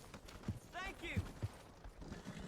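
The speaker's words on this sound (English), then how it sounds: "Somebody left their horse in a bad place." A horse's hooves clip-clop a few times in a Wild West roleplay game, close and moderately loud, with a short burst of talk over the steps.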